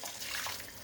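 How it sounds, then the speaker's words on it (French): Boiling water poured into a pot of rabbit cooking with mushrooms and tarragon, a brief, steady splashing pour heard close and fairly soft. "De l'eau bouillante."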